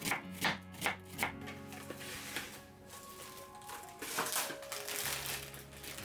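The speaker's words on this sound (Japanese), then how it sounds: "玉ねぎとえのきを切っていきます" A knife chops thinly sliced onion and enoki mushrooms on a cutting board, with a run of quick, close, crisp cuts at the start and then quieter, irregular slicing over a low background hum.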